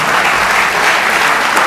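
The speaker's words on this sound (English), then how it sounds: "I would like to ask you for an applause for the people who made this possible." At a public talk on oil prices and geopolitics, a hall audience applauds to thank the organisers. The brief burst of dense, loud clapping holds steady throughout.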